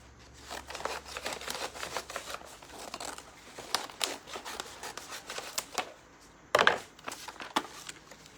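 Scissors snipping paper for fall décor crafting, a series of short irregular close cuts and crinkles with one louder rustle near the end, quiet and without talk.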